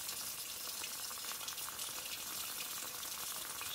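A vintage moka pot brewing espresso-style coffee on the stove, giving off a steady, hissing, sputtering gurgle as water and air push through; quiet and continuous with no talking.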